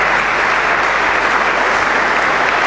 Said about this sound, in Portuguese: A plateia a aplaudir de pé.